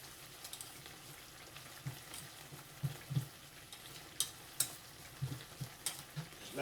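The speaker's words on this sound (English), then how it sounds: "we're gonna mix these eggs in this ricotta cheese real good" A spoon works eggs into ricotta cheese in a bowl for lasagna, making quiet, irregular soft thumps and wet clicks that come faster toward the end.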